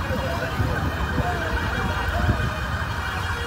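A fire brigade siren wails as the vehicle arrives at a car and motorcycle collision in Cabo Frio. The siren mixes with engine rumble and steady street noise, and muffled talk is heard.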